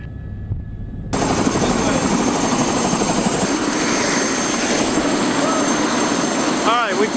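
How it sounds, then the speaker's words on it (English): A loud helicopter's rotor and engine roar starts abruptly after a second of quiet, then churns steadily up close as it lands on snow on a mountain. "Just gonna sort of pat the helicopter down into the snow line here"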